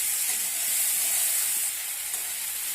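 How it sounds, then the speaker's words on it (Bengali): Tomatoes and onions with a pinch of salt sizzle steadily in a hot pan, a loud continuous frying hiss heard up close with no one speaking. "লবণটা দিয়ে এইভাবে নাড়াচাড়া করে আমি ভেজে নেব।"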